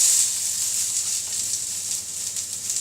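Pepper and spring onion hit a hot, smoking wok with a steady, fairly loud sizzle and hiss that holds evenly throughout, with no talking.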